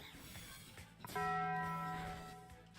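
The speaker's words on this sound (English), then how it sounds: "It sounds like the frickin' Taco Bell bell, I swear." A Pokemon move in Pokemon Legends Z-A rings out as a single bright, bell-like chime that holds for about a second and fades over quiet game background.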